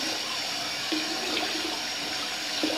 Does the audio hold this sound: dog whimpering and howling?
no